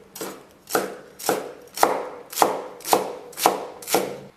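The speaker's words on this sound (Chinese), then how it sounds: "一把洗净、控干水分的韭菜切碎" A knife chops a bunch of washed, drained chives on a cutting board, eight firm, evenly spaced chops landing about every half second, close and clear with no talking.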